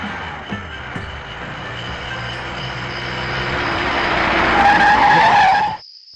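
Tyres of a car skid loudly as it brakes hard to a stop on a road, the screech rising over a rumbling engine before cutting off abruptly.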